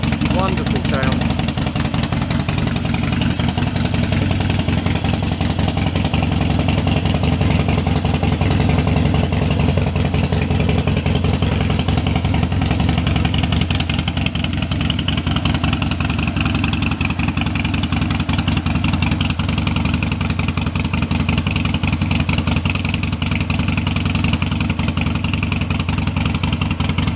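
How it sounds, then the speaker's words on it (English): A Harley-Davidson XL 1200 motorcycle with Vance & Hines exhaust idles with a deep, loud, uneven rumble from a throaty exhaust, running steadily and close by the whole time. "That's what an XL 1200 sounds like with Vance & Hines exhaust."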